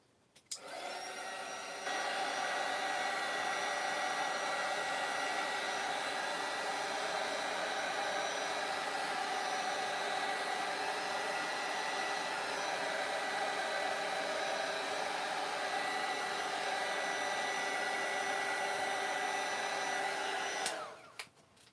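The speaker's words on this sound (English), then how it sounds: "I'm just going to dry it quickly because I don't want anything to lift." A hair dryer blows steadily at close range for about twenty seconds, a loud, even rushing whir that switches on abruptly and cuts off at the end.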